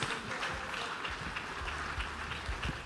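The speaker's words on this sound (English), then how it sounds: "Please allow a round of applause for that." Conference audience applauding at a trade and investment forum session, a steady even wash of clapping from a large room with faint low rumble beneath, sustained throughout.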